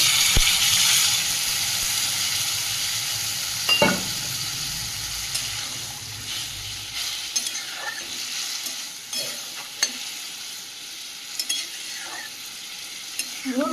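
Potato curry in a pan sizzles steadily after a splash of water is added, with occasional spoon stirs and scrapes over the close, constant frying hiss, no voices.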